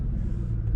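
A pickup truck engine rumbles steadily while driving on country roads, a low continuous drone close by with no talk over it.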